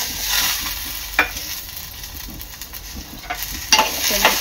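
Chopped tomatoes hit hot oil with roasted coconut for veg kolhapuri and hiss steadily, loud and close. A few scraping stirs break through the sizzle.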